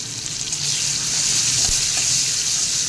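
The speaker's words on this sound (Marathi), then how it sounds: "आपण आता हा कांदा छान परतून घेऊयात" Vertically sliced onion sautéing in a pan for khichdi, a loud steady sizzle with a few soft stirring scrapes, close and uninterrupted.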